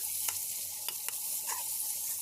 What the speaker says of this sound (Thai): พอกระเทียมเริ่มมีกลิ่นหอมเราก็จะใส่หมูชิ้นลงไปค่ะ